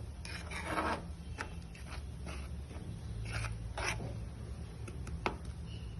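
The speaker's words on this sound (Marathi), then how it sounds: "पण यात आपण छान मिक्स करून घेऊया, एकजीव करून घेऊया पूर्ण." Spoon stirring and mixing coconut modak filling in a pan, a close scraping rasp repeated in uneven strokes and scrapes throughout, with no voice.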